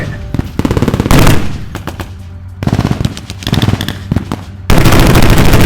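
Bursts of machine-gun and rifle fire crack out in a WW2 battle reenactment with Sherman tanks attacking German defenses, loud and near, coming in rapid clusters separated by short lulls, with a sustained heavy volley at the end.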